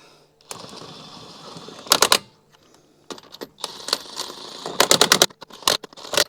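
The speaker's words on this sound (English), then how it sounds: "Got my impact here on low. I'll just run these up real quick." An impact wrench on its low setting runs lug nuts onto a Toyota Highlander wheel during a brake and rotor job, giving short rattling bursts separated by pauses and quieter whirring, up close.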